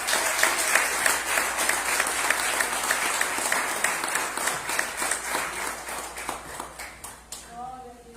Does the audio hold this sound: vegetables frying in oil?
no